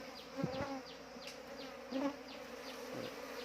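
Honey bees swarming around a disturbed hive during a honey harvest, a steady close buzzing with individual bees droning past louder now and then, alone without speech.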